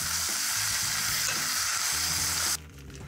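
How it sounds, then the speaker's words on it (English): Kimchi hits a hot pan with browning orzo, giving a loud, steady sizzle and frying hiss with light stirring scrapes, then easing to a softer crackle near the end. "Adding the kimchi in, because as you can see, the orzo is getting brown."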